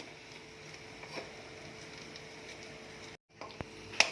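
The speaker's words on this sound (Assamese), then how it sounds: "এইখিনি চিকেনতে আমি পিটিকা কৰি থোৱা আলুখিনি দি দিম আৰু দুইখিনি একেলগে 5 মিনিটমানৰ কাৰণে ভাজি লওঁ" Chicken and mashed potatoes frying together in a pan give a faint, steady sizzle, broken by a brief silence and then a couple of sharp stirring knocks.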